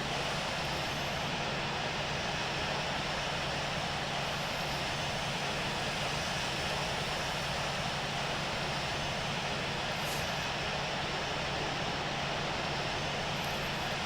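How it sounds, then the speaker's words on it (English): An Airbus airliner's engines hum during pushback in the Infinite Flight simulator game, a steady, even, continuous drone of engine and cabin noise that stays constant throughout, with no talking. "And we'll go ahead and begin pushback."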